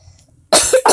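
A single sharp, loud cough breaks abruptly out of near silence, followed by a second burst.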